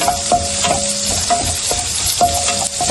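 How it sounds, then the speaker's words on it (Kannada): Cumin seeds and finely chopped green chillies fry in hot oil, a close sizzle broken by rhythmic scraping and clanking of a spoon stirring the pan. "ಸ್ವಲ್ಪ ಮೆಣಸಿನ್ಕಾಯಿ ಹಾಕ್ತಾ ಇದ್ದೀನಿ, ಸಣ್ಣದಾಗಿ ಹೆಚ್ಚಿಟ್ಕೊಂಡಿರೋದು. ಸ್ವಲ್ಪ ಫ್ರೈ ಮಾಡ್ಕೊಳ್ಳೋಣ ನೀಟಾಗಿ."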